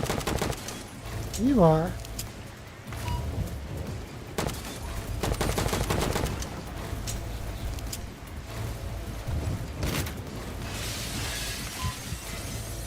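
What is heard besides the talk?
gunfire from enemies shooting at the player in a sci-fi FPS video game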